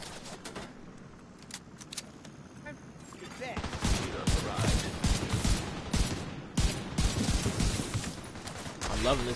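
Rifle fire in The Division 2, rapid bursts of sharp gunshots that grow louder and denser midway and keep going, with a voice talking over parts of the fight.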